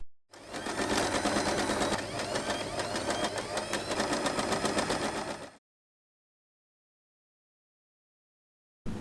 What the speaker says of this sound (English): Sew the fabric precisely along the lines we drew.